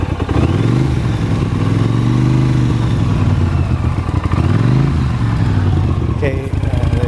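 A 1983 Honda CX 650 Turbo motorcycle engine runs close by, a steady loud idle with a couple of rises in revs, continuous throughout the clip.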